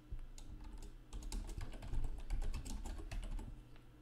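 Fast, continuous typing on a computer keyboard while tooltip text is entered in PowerPoint: a close, steady run of crisp key clicks with brief pauses and no voices.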